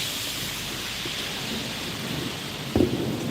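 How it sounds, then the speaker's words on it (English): Steady rain falls in a continuous hiss heard from a porch on an evening, with a brief low rumble near the end, and no talking. "I love when it rains."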